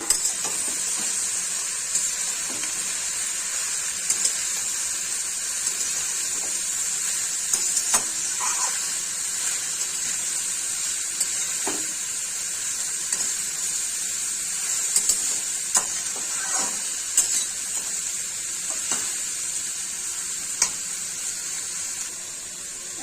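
Bottle gourd pieces hit hot oil seasoned with a dried red chilli, bay leaves and black cumin, giving a loud, steady sizzle throughout with close, intermittent scrapes and clinks of stirring. No one speaks.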